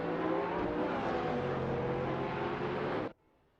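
AI-driven hypercars in a racing simulator roar in a dense, sustained engine drone, loud and steady for about three seconds before cutting off abruptly to near silence.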